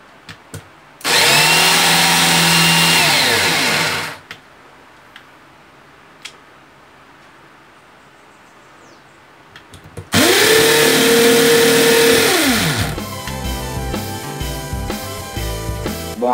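A power drill in hammer mode spins up twice, each run a loud, steady whine lasting a few seconds, with quiet clicks and shuffling in the pause between.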